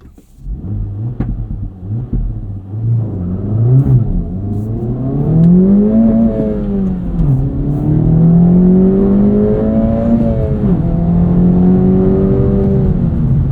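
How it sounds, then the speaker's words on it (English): A 2024 Acura Integra Type S engine accelerating hard from inside the cabin, its note rising through the revs, dipping at each gear change and climbing again, loud and steady with no talking. "The engine noise seems a bit less artificial than the Type R."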